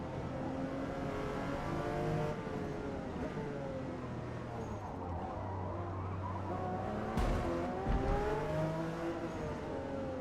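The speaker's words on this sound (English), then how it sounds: "I don't mind the engine sound, it's alright for a V6." A V6 car engine in a racing video game revs and drones steadily as the car accelerates through gears, with pitch rising and falling, brief tire squeal and a sharp burst near the end.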